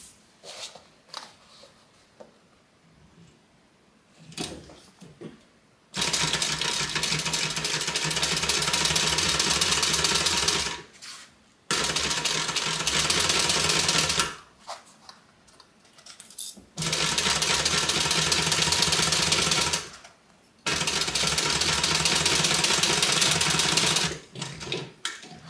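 A sewing machine stitches a 1/2 inch seam allowance in several long steady bursts of rapid mechanical whirring, separated by brief pauses, close and fairly loud with no talking.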